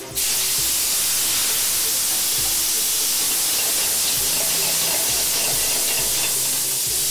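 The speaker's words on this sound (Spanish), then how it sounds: "Vamos a echar la carne que ya está aderezada con ajos y sal, y se pone a flambear." Meat seasoned with garlic and salt goes into a hot pan to be flambéed, giving a loud, steady sizzle and hiss that starts abruptly and continues without a break.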